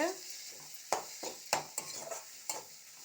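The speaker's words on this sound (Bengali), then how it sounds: "ডিমটা দিয়ে এবার একটু নেড়ে নেবো" Egg being stirred into a frying spice mixture in a pan while making a quick egg and eggplant chokha: soft sizzle underneath, with several sharp scraping strokes of the utensil at irregular intervals, fairly close.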